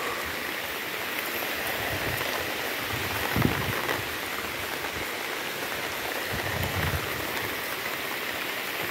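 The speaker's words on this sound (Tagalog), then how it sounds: "Lakas ng ulan." Heavy rain pours in the mountains, a steady dense hiss of drops drumming on nearby surfaces throughout, with no voices.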